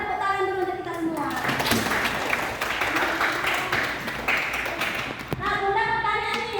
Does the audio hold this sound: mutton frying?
no